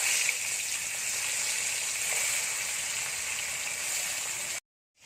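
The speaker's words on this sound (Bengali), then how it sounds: "মাছগুলো ভাজা হয়ে গেছে তুলে নেব" Steady, moderate sizzling of hilsa fish frying in mustard oil, constant hiss that cuts off abruptly just before the end.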